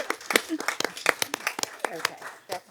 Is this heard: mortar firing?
no